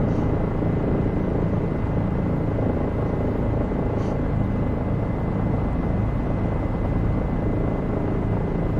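A helicopter approaches to land at Columbia Airport, its steady loud rotor and engine rumble filling every moment, close and unbroken, with no voices.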